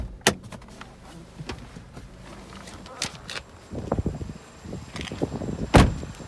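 Someone gets out of a 2018 Vauxhall Mokka X 1.4i Ecotec, with sharp door clunks, rustling movement and shuffling steps, one loud slam near the end, close by.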